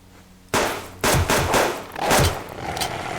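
Pistol shots ring out in the survival video game Subsistence as a player fires at a bear. About four or five loud, close, sharp blasts follow one another quickly, with no one talking.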